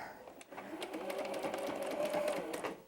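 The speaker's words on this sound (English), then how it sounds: "Starting at the raw edge, back stitching, and sewing off your 1/4 inch to the other end." A sewing machine runs in one steady burst of fast whirring stitches, joining quilt block pieces along a quarter-inch seam, close and fairly loud after a brief start.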